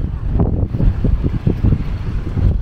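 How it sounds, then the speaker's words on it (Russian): Strong gusting wind at a seaside embankment in Saki, Crimea, buffeting the microphone with a low roar, mixed with rough stormy surf, loud and steady throughout with no talking. "О, но ветер такой, что ух!"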